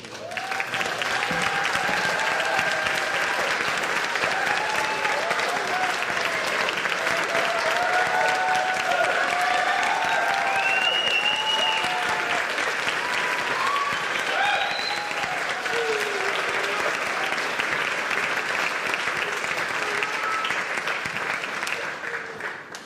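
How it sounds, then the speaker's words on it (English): Room of attendees at a school district board meeting giving a standing round of applause, steady many-handed clapping holding for over twenty seconds at moderate level, with scattered cheers and voices mixed in. "we'll give you a round of applause."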